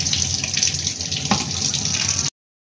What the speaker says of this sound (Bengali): এর মধ্যে একটু জল দিতে হবে